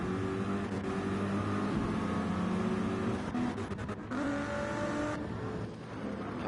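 Gran Turismo race cars starting a race at Road America, a pack of engines droning and revving together, loud and steady, with shifting pitch as the field accelerates.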